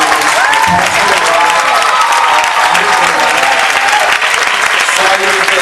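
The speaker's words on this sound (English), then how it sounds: "Give a round of applause to all those faculty members." Graduation ceremony crowd applauding faculty members at a college commencement, loud sustained clapping from a large audience with scattered cheers and voices mixed into the din.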